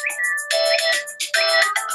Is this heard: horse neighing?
no